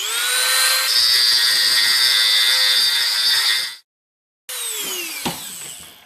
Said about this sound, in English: Just a smidge more action with my Dremel and we'll be done.